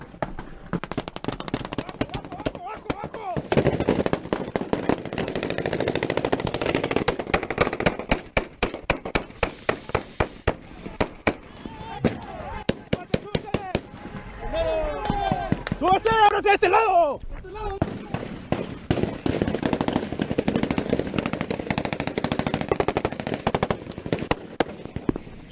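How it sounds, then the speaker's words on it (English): Cartel gunfire recorded on a police body camera, long rapid bursts of loud automatic shots crackling over wind and movement noise, with voices shouting between volleys. "this guy with the body camera captures the exact moment that the cartel guys open fire on them"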